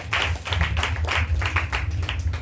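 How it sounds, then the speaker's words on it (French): A church congregation applauding, a steady continuous patter of many hands clapping, close and fairly loud for a couple of seconds. "Acclame ce soir."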